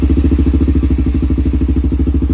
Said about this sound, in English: It's got a good exhaust note.